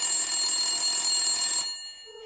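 An old landline telephone rings in a loud, steady electronic tone that sounds close by, then cuts off abruptly after under two seconds, leaving near silence.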